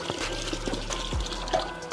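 Dirty water pours into a homemade bottle filter, giving faint, brief trickles and splashes with a few drips at close range.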